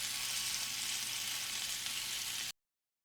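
Asian meatballs frying in a pan, a steady, close hiss of sizzling fat running evenly for a couple of seconds before cutting off abruptly.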